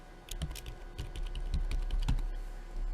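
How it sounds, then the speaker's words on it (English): A username and password are typed on a computer keyboard in rapid, uneven bursts of clicky keystrokes. The typing is close and continuous, with no talk over it. "typing in our username and password"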